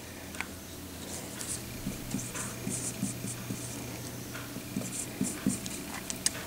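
Writing being erased off a board during a factoring lesson, soft rapid rubbing and scratching strokes that repeat quietly and steadily, with faint taps, and no talking.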